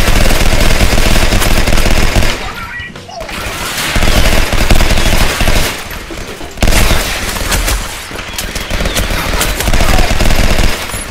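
Sustained automatic gunfire from a video game fills nearly the whole stretch, loud and dense with brief lulls between bursts.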